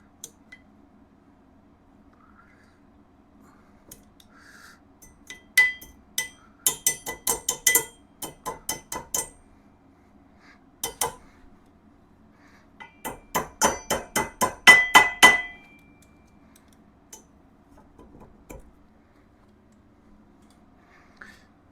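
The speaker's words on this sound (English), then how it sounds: "So we'll start by taking the cotter pin out." Metal tapping and clinking on a 1996 Yamaha Wolverine 350 ATV's rear differential while a long-unserviced cotter pin is worked out, with bursts of rapid sharp ticks and taps separated by quiet pauses.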